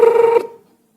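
Short electronic telephone ring tone, a single loud buzzing burst that cuts off abruptly and fades with a brief echo.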